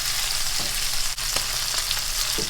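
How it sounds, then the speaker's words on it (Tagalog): Freshly flipped Cajun chicken fries in a pan, a loud, even sizzling hiss with a few small pops and scrapes, close and unbroken, no talking. "So itataog ko na lamang at nang yung kabila naman ang maluto."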